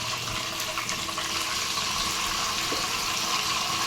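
Steady tap water runs continuously in a kitchen sink while raw prawns are washed, a constant close hiss and splash with no pauses or talk.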